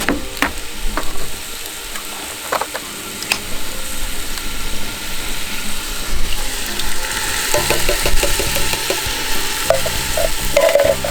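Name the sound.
two tins of chopped tomatoes added to browned meat in potjie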